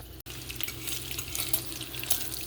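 Bacon frying in a favorite skillet, a steady soft sizzle with faint crackles and pops, close but quiet, broken by a brief dropout near the start.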